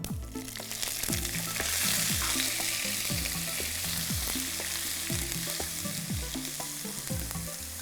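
Ground onion paste fries in hot oil for a Rajasthani mutton curry, a dense close sizzle broken by repeated rhythmic scrapes of a spatula stirring the pan.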